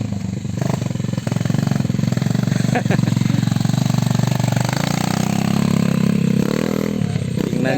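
A motorcycle with raised suspension rumbling over a rough, poorly surfaced road, its engine droning loud and close with rattling from the bumps while people talk over it.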